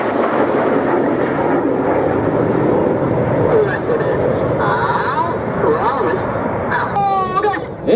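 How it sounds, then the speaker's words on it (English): A Hawker Hurricane flying in at the Biggin Hill Airshow, a loud, broad propeller-engine roar holding throughout while a commentator talks over it. "In from the right, this is the Hurricane."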